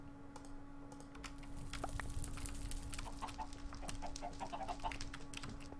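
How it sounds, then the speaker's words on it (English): Chicken clucking in the Minecraft Sky Factory 3 video game, a few short clucks scattered through the clip over a steady low background hum with keyboard-like tapping. "There's our red chicken."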